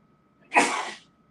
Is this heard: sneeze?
yes